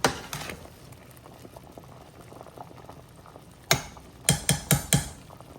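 Beans boiling in a pot of water while being cooked down for Haitian bean sauce, a steady low bubbling simmer throughout with a few sharper, louder knocks and clinks near the end, no voices.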